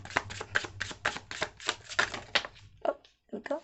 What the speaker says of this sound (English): If the energy says keep shuffling, we keep shuffling.